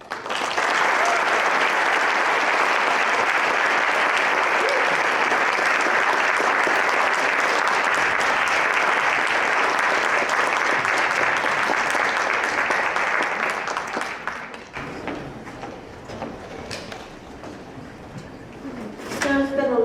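Audience applause at a literary reading event, a dense, steady clatter of clapping for about fourteen seconds before thinning out and fading into scattered claps and room noise.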